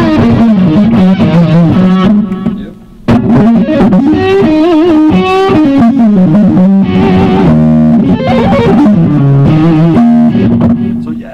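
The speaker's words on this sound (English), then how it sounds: "the noise gate is fantastic. It has a very smart decay to it." Heavily distorted electric guitar through an Engl amp with its noise gate engaged, played loud and continuous with chords and riffs, cutting almost to silence for a moment near the three-second mark before the playing resumes.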